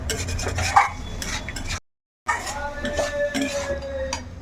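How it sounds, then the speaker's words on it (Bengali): A spice paste being stirred and sautéed in a pan, a spoon scraping and clinking against the metal with a light sizzle underneath, dropping out briefly in the middle before the stirring and frying carry on. "এখন এইগুলো একসঙ্গে বেশ খানিকক্ষণ কষাবো"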